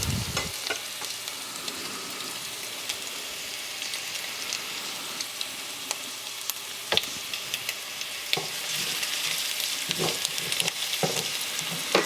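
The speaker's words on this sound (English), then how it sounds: "I don't want to burn that garlic, so we'll keep moving this stuff around the outside here a little bit" Garlic and prawns sizzle steadily in a hot pan for a prawn bisque, with occasional scrapes and clinks of stirring rising over the continuous frying hiss.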